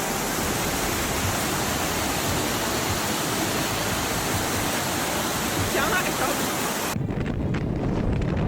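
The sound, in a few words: waterfall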